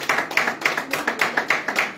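Congregation clapping in steady rhythm during worship, acclaiming the Lord, a full roomful of sharp, evenly spaced claps repeating about every quarter second with no talking.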